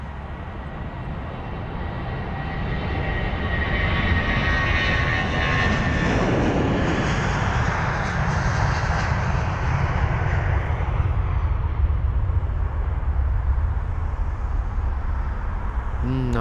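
British Airways Airbus A320-200 jet on the runway at London Heathrow, engines building to a loud, sustained roar that swells and then slowly fades as it moves off, heard from a distance.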